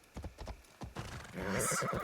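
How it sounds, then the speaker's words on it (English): Hooves clip-clop in a quickening rhythm as a horse gallops in Assassin's Creed Shadows, ending in a loud neigh, close and clear. "Let's just take the horse. The horse is just better."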